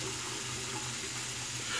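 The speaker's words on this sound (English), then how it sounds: "so I'll have the running water going" Tap water runs steadily from a faucet into a sink while a face is wetted for a razor shave, a constant close hiss with no voices.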